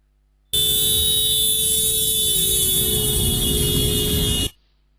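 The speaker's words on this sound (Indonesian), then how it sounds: "Anda dapat mendengarkan bagaimana perubahan suara klakson itu" A car horn blares in one sustained steady tone for about four seconds, starting and stopping abruptly, loud and alone with no talk.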